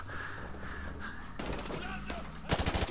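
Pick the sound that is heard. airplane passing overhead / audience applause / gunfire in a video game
gunfire in a video game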